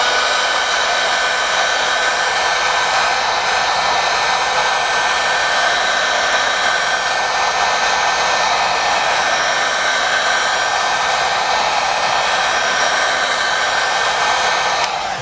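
A steady, loud hot-air blower runs without a break, warming the back cover of an LG Q6 phone to soften its adhesive. The whoosh stays even and close for the full length, with no talking.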